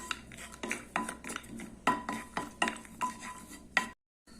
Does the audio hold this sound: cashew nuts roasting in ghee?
yes